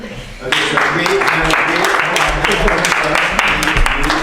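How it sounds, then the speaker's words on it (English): Meeting attendees burst into applause after a quiet start, the clapping loud and continuous for several seconds with a few voices mixed in. "And I think we should all applaud for doing such a great"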